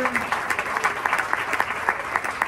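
An audience in a restaurant applauds a high school jazz band steadily, a dense patter of many hands clapping at moderate volume for a couple of seconds.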